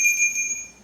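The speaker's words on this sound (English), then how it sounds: "every time you ring this bell, whoever you ring the bell by, you'll tune their bell" A small bell rings with a steady, sustained high metallic tone, clear and close, fading slightly toward the end.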